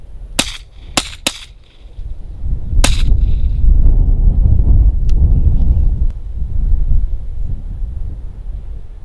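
Several sharp, dry cracks from a long-barreled Marlin .22 rifle firing CCI Blazer rounds outdoors, with three quick shots close together and then one more, followed by rushing wind noise on the microphone.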